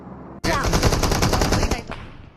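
Gunfire in a BGMI mobile battle royale fight, a loud continuous burst of rapid automatic shots lasting over a second, then trailing off, heard without talking.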